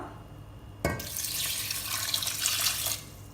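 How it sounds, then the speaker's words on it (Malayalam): Water poured into a pot of pumpkin and bean erissery curry, starting with a sudden splash and running as a steady gushing stream for about two seconds before stopping. "ഇനി ഇതിലോട്ട് നമുക്ക് ആവശ്യത്തിന് വെള്ളം ഒഴിച്ചു കൊടുക്കാം."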